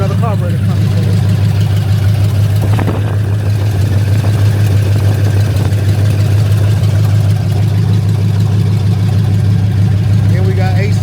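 A car engine idles loudly with the exhaust removed and the carburetor out, a steady, heavy low drone throughout, with people talking over it.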